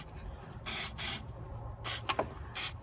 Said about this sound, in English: open it up a bit and soak it with this CRC cleaner